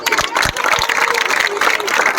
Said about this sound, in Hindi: आओ तालियां